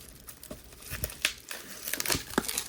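Sticky packing tape is peeled and torn off a PlayStation game case, giving short crinkling rips and crackles in quick uneven bursts, close up, with no voice.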